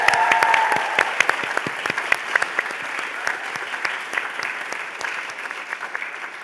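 Applause from an award ceremony audience for grand prize winner Kheyti, steady, close and full at first, then thinning to scattered individual claps that trail on.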